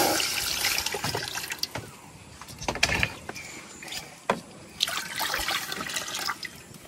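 Water poured into a hot wok over a lit stove for cooking sago, splashing and gurgling in bursts with occasional clanks of the pan.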